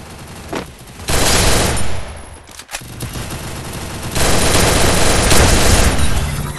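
Bursts of automatic gunfire from a mobile battle-royale shooter game, loud sustained volleys with a brief pause midway and heavier firing toward the end.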